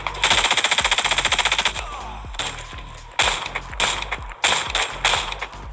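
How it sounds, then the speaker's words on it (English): Rapid automatic gunfire from the mobile shooter Warface GO, a fast even burst followed by several shorter bursts and single shots with mechanical clacks, fairly close and thin-sounding. "Guns unfortunately sound weak"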